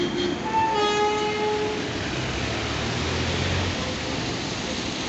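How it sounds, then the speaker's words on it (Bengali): The steam engine of the Darjeeling toy train at Darjeeling station sounds a whistle near the start, followed by a continuous low mechanical rumble and hiss from the locomotive, moderately distant and with no speech. "দার্জিলিং এলেই একমাত্র স্টিম ইঞ্জিনে সেই ঝিকঝিক শব্দ শোনা"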